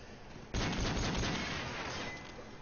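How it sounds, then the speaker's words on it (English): Dense burst of gunfire in Call of Duty: Modern Warfare 3 during a competitive match erupts after a brief quiet start, sustained rapid shots with a loud, crackling, slightly muffled game-like quality. "Bit of a gunfire here."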